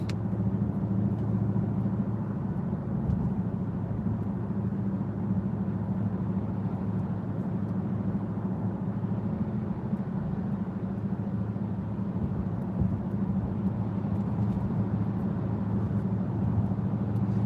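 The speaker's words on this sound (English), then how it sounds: "A whole lot of traffic." Steady low road rumble and passing traffic heard from inside a Dodge Durango SRT while driving, a constant muffled drone throughout with no talking.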